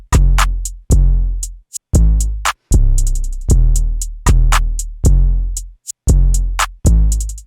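A trap drum pattern with deep 808-style kicks, a clap and a rim click all play together in a steady beat, loud and close, with no chords and no voices.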